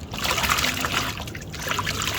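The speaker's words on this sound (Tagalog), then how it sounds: "Waswas muna natin ng tubig bago natin lagyan ng pangpantanggal ng kaunting lansa" Running tap water trickles and splashes continuously over raw beef being rinsed in a home kitchen before seasoning, a steady close-up stream with no talking.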